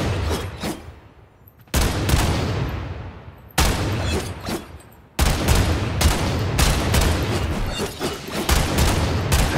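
Loud bursts of gunfire in the video game Warframe crack and roar in heavy volleys, each a sudden blast trailing into rumbling echoes, with no talking.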